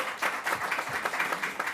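Crowd applause at an outdoor press briefing held at Sahlen Field ballpark in Buffalo, a steady wash of clapping from a gathered audience, moderately distant and continuous for the short stretch with no speech over it.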